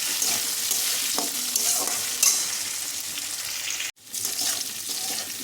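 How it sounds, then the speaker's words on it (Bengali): Potatoes frying and being stirred in a pan, a steady close sizzle with scraping stir strokes and a brief break near the end, no talk. "আলুটা আরেকবার নেড়ে দিই"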